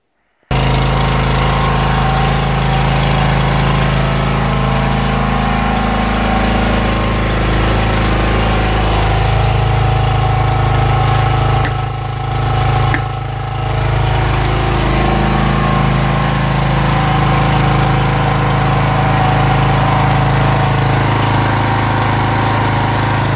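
A SPARKY AG 2.2 four-stroke petrol generator starts almost at once and runs at a loud, steady engine drone, close up, with a brief dip in pitch partway through.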